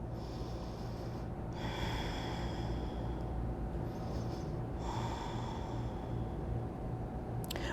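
Slow, steady breaths drawn in and out through the nose during a yoga stretch, two long airy inhale-exhale cycles close by over a low constant background hum, with no talking.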